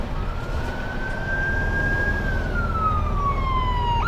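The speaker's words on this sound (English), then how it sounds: "the ambulance" An ambulance siren wails through surrounding traffic noise, one long rising then falling tone that passes close by and fades, with a steady rumble of road noise beneath.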